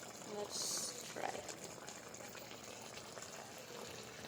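Potatoes simmer in a pot on a home stove, giving a soft, steady bubbling and watery hiss with a brief splashy swell early on, all faint and continuous.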